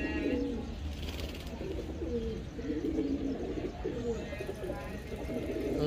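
Black pigeons cooing over and over in soft, throaty phrases, with a steady background hum throughout.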